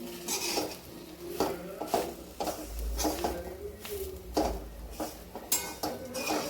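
Chickpea leaf bhaji with red chilli powder is stirred in a pan, a spoon scraping and clinking against the metal in repeated strokes over a faint sizzle, close and fairly loud.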